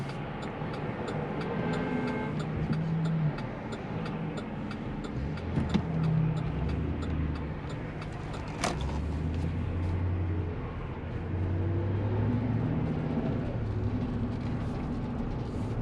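A GMC Yukon XL towing a trailer moves through traffic, with a steady broad road and engine rumble from inside the cabin, a brief sharper noise midway, and surrounding traffic noise throughout.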